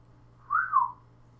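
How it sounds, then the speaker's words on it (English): A single rising-then-falling whistle of appreciation, clear and moderately loud, lasting about half a second over a quiet low hum, with no talking. "Whistle appreciation."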